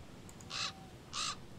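Crow cawing in the video game Black Mirror III: two harsh, raspy caws about half a second apart, clear and fairly close over a low, steady ambient background with no talking.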